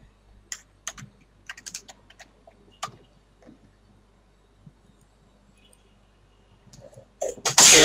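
A single sneeze bursts out near the end, loud and close, after a stretch of quiet computer keyboard typing with scattered clicks.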